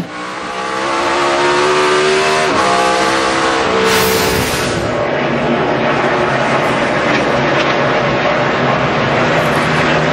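NASCAR stock cars racing at Watkins Glen in 2011, loud engines roaring past close by with a rising then falling pitch as one car sweeps by, a sustained high-revving blare carrying on throughout.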